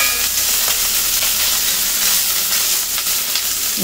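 Oil sizzles and crackles steadily at close range as small mourala fish fry, a continuous bright frying hiss with no voices.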